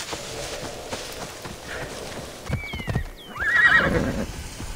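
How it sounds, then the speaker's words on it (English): A horse in Assassin's Creed Odyssey neighs loudly and close, with clip-clop hoofbeats of a gallop running throughout and a second whinny near the end. "So I took a horse"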